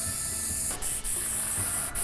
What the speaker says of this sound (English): I'm gonna go into an orange color to clean out the airbrush